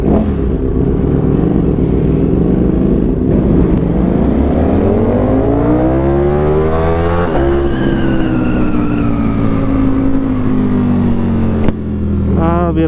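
Kawasaki Z1000 motorcycle fitted with a full aftermarket exhaust system, its engine revving up hard and loud, then holding a long, steady high-revving drone as it runs at speed, with a brief shift near the end.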